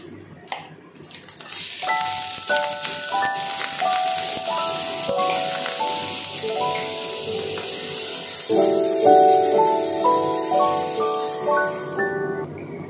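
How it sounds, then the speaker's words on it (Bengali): Chopped onions fry in a kadai with cumin, making a loud, steady sizzle that starts abruptly and continues throughout, under a melodic tune of background music. "পেঁয়াজটাকে ভালো করে ভেজে নিতে হবে, ভালো করে যেন মজে যায়, একদম নরম হয়ে আসে"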